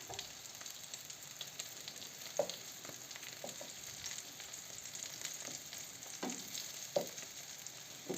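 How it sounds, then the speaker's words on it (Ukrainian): Steady oil sizzling as bread fries in a pan, with occasional scraping and stirring clicks, close up and fairly quiet, no voices. "І так будемо всі накладати і смажити з одного і другого боку."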